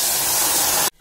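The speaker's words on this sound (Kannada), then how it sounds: "ಇವಾಗ ನೀರು ಹಾಕೋಣ।" Water is poured into a hot pan of roasted broken wheat for sajjige, giving a loud, steady hissing rush that cuts off abruptly after about a second.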